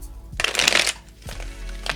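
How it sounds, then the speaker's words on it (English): Playing cards are shuffled up close in two quick riffling bursts, a crisp fluttering rattle with a short pause between. "I'm going to do a traditional shuffle here."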